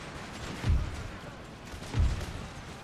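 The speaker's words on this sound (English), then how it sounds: "Then I started firing upon it with our cannons" Cannons fire in the strategy game Empire, two muffled low booms about a second apart over a dull background rumble of battle.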